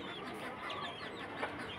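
Young chickens with their mother in a village farmyard, soft rapid clucks and chirps over a noisy background, fairly faint and continuous with no talk.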